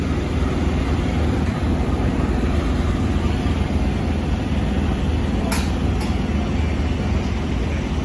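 A Melbourne tram rolls past, a continuous loud rumble with a steady low roar and a faint metallic squeal midway, close by and without talk.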